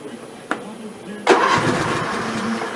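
A Snapper riding mower converted to a manual start cranks briefly, then its engine catches and settles into a steady, close mid-pitched running sound.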